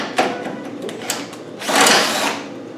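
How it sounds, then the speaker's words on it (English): A drill bores holes in a metal slam panel on a 300Tdi rebuild. Short whirring bursts are followed by a longer, louder run of drilling near the end, close by. "we're going to drill the hole out to the right size"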